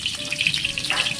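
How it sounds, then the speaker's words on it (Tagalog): Tilapia fries in a pan, a close, crackly sizzle with rapid spitting pops over a steady hiss, heard on its own for about a second. "Yan o, pinipirito natin o."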